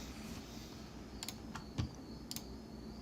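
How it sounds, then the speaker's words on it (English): Mechanical keyboard with a deep, thocky sound being typed on, a few scattered keystrokes at close range over a quiet background hiss. "You guys like the Thocky keyboard?"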